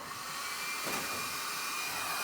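A heat gun blows a steady, close airy whoosh like a hair dryer while shrinking dual-wall heat shrink on a Mazda RX7 FD3S battery cable, with one brief louder surge in the middle.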